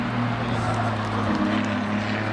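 GT1 race cars during qualifying at the FIA Motorsport Games, a droning engine note with steady low harmonics that dips in pitch briefly as a car passes at a distance, no voices.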